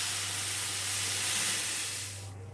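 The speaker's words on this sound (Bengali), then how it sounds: "এই সময় যে চিনি গুলে রেখেছিলাম জলটায়, সেই জলটা আস্তে আস্তে করে ঢেলে দেবো।" Sugar water poured slowly into golden fried semolina for sujir halua hisses and sizzles loudly in a steady rush, fading toward the end.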